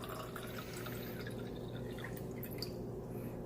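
About 120 grams of water poured into a small ibrik pot for Greek coffee, a faint steady trickle and drip over a constant low hum.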